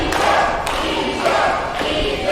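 A wrestling arena crowd at a CWFAZ championship main event roars steadily behind the challenger, a dense sustained cheer with a few sharp thuds cutting through.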